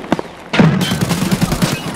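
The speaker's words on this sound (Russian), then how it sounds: "Выстрелы хард какие были?" A burst of rapid gunfire erupts after a faint earlier shot, sustained and loud with rattling, overlapping reports in a firefight in Escape from Tarkov.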